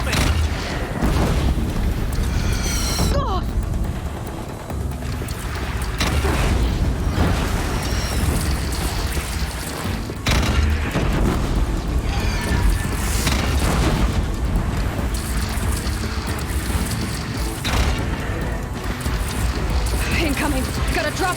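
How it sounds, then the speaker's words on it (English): Deathbringer machine fire in Horizon Zero Dawn, heavy booming explosions and bursts landing repeatedly over a loud, busy game soundscape, with a voice talking over parts of it. "Deathbringer fire incoming!"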